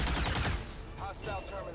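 Soldiers fire weapons in the turn-based strategy game XCOM 2, a quick, dense burst of loud gunfire with rapid overlapping shots that decays briefly before a second shorter volley.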